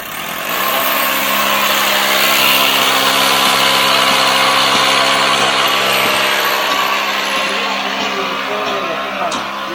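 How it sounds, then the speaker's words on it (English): A power drill bores steadily at a construction site while preparing to pin into concrete, a loud continuous whine over engine hum. "we're just drilling and getting ready to pin into that"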